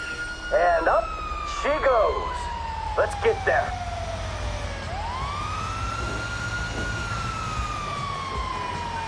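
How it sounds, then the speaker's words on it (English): Emergency vehicle sirens wail in Grand Theft Auto 5 during a bureau raid, a steady rising and falling siren tone with a slow downward and upward sweep, accompanied by short chirping bursts early on. "The emergency signal, right?"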